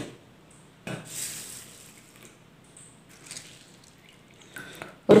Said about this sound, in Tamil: இதில் தண்ணி ஆட் பண்ணிக்கலாம்.